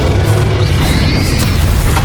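A Bombarda blasting spell from Hogwarts Legacy bursts as a deep, sustained boom with a rising whoosh over a steady low rumble, loud and close, with no voices.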